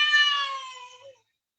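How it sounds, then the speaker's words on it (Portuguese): A cat gives a single drawn-out, pained meow, a sound effect heard close up and alone. The cry starts strong, slowly fades and then cuts off into silence. "como se um gato com uma profunda dor estivesse pedindo ajuda"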